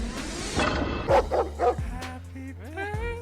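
A dog barking sound effect plays on a sports gambling podcast, a short series of yips and bow-wow barks over a busy background, followed by whimpering, tonal squeals.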